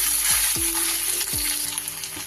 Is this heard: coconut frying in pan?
yes